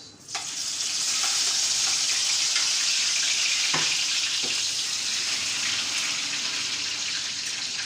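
Chilies and onions hit hot oil in a karahi for aloo karahi, bursting into a loud, continuous close-up sizzle that holds steady throughout, with occasional faint clinks and no talking.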